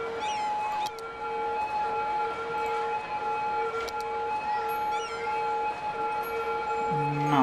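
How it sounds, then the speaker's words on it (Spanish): Sirens from the city-building game Cities: Skylines, a steady high tonal wail that holds on throughout with a few faint clicks and blips, and no speech over it. "Dios, qué pesadilla con las sirenas"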